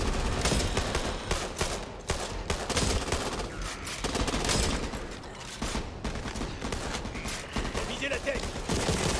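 Heavy sustained gunfire in the zombie shooter Back 4 Blood as players empty their magazines, continuous overlapping bursts and shots filling the whole stretch, loud and close, with voices talking over it.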